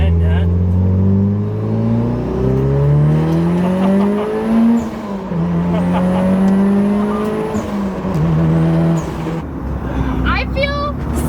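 A BMW G80 M3 Competition fitted with an iPE exhaust accelerates hard, its engine climbing loudly through rising revs with sharp shifts and crackles near the end, while people talk excitedly over it.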